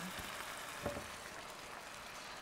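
Dry white wine simmers in a pan as the base of a pumpkin sauce, giving a steady, faint bubbling fizz with no voices.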